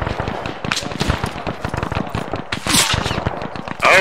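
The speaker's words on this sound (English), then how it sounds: "Oh shit, we're getting shot." Dense, rapid gunfire crackles in bursts around a squad in the WW2 Omaha Beach D-Day scenario in ArmA 3, close and loud, with a voice speaking over it and a sharp whizzing burst near the end.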